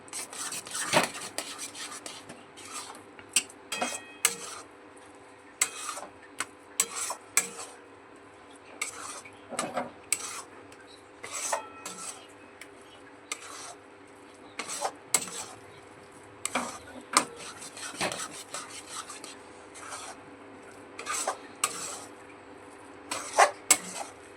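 A utensil stirs and scrapes dry fruit protein halwa in a pan over a gas flame, giving irregular bursts of metallic scraping and clinking against the pan over a quiet background.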